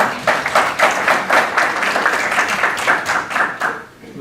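Audience members at a town council meeting give a round of applause. Dense, fairly close clapping continues evenly for about four seconds, then thins out at the end.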